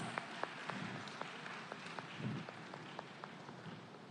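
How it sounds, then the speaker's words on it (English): Scattered, fairly faint applause from an audience at an international data privacy conference, with individual claps in an uneven rhythm heard from a distance in a reverberant room. "Please give her a round of applause."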